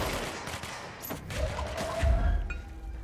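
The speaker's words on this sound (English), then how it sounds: "Sounds like some gunfire going on." Distant gunfire crackles in bursts during gameplay of the video game Control, muffled thumps and rattling shots at moderate distance under game ambience.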